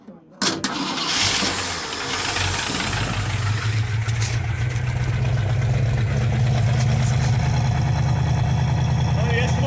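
A 1965 Mustang engine cranks and catches, then runs roughly with a steady low rumble that grows slightly louder, with a voice briefly heard early on.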